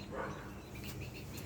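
A puppy barks outdoors with birds around, a few faint, distant yips rising over quiet background ambience, no talk.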